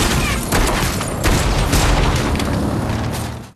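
Gunfire in a film scene, shots from a motorcycle rider pulling alongside a police patrol car, a dense run of loud bursts and booms over constant action-scene noise for the whole stretch.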